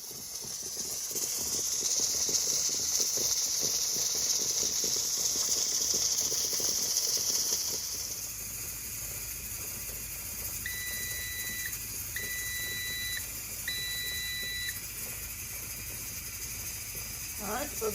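Steady steam hiss escapes from a Carey pressure canner processing green beans, loud and broadband at first, then settling into a softer continuous hiss with a low rumble, a few short electronic beeps sounding near the end.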